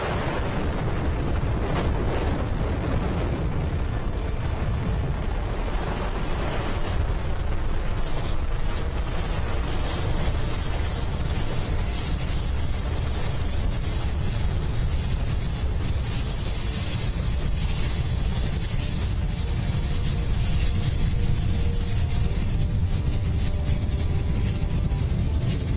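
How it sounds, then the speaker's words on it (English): A SpaceX Falcon 9 rocket roars at liftoff on a reflight of an orbital-class booster, a loud, steady, wall-like rumble with heavy low-end crackle that holds unbroken throughout. "4, 3, 2, 1. Liftoff."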